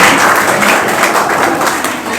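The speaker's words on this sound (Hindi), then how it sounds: "तालियां हो जाइए एक बार" Audience applause at a Hindi comic poetry gathering (kavi sammelan), a steady dense wash of clapping from a crowd that holds evenly for a couple of seconds.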